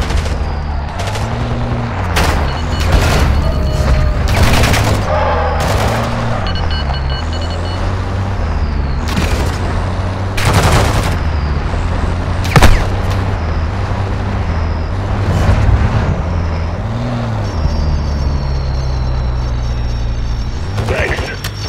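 Gunfire in Call of Duty DMZ, a steady stream of sharp shots and bursts over a loud, continuous engine-like drone, with a game voice speaking at points.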